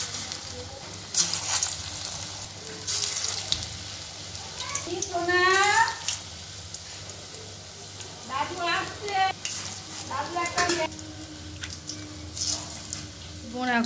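Food frying in hot oil in a kadai, a steady close sizzle with stirring and scraping, while people talk over it intermittently throughout.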